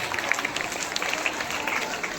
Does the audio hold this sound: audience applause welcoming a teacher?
yes